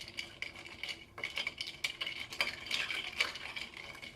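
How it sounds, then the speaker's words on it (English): A spoon stirs a non-alcoholic Wilderton Lustre drink with a couple of dashes of Fee Brothers Orange Bitters, making quick, quiet clinks and taps against the glass in an uneven, continuous rhythm. "Stir this up really good."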